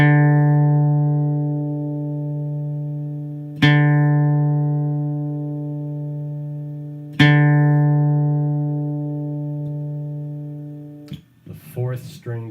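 Guitar reference tone for the third string, one sustained note struck three times at steady intervals, each ringing out and fading, close and clean, followed by a voice beginning to speak.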